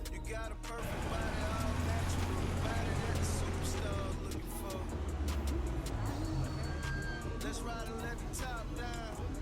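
A car drives past at South Lake Mall near the food court entrance, a steady engine and road rumble heard from inside a moving vehicle with chirping birds and a voice talking over it.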